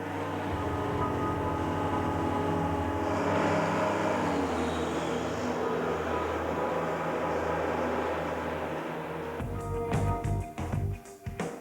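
A Peugeot diesel engine with a particulate filter holds a steady loud drone as it revs toward 3000 rpm, then breaks into rapid rattling bursts near the end.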